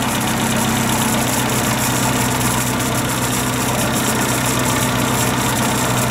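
A 1.3L carbureted Suzuki Samurai engine idles steadily with a constant, rough mechanical drone and slight knocking, close and loud with no talk.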